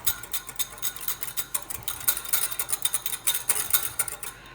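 A utensil rapidly stirs Greek yogurt with ranch seasoning and lemon juice in a bowl, producing a steady run of soft, close scraping and clinking strokes.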